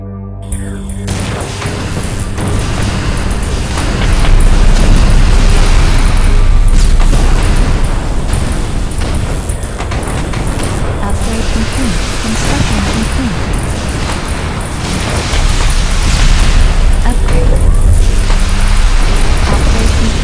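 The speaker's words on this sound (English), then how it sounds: "Airstrike available." Airstrike explosions rumble in the tower-defense video game Defense Zone 2, a dense run of heavy booms layered over continuous battle effects, loud and sustained throughout.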